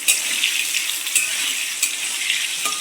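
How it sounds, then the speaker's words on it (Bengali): Potatoes frying in hot oil in a wok for a Bengali home dish, a steady bright sizzle with a few small clinks or splashes, close and alone without talk. "কড়াইতে তেল গরম করে আলুগুলো ছেড়ে দিচ্ছি"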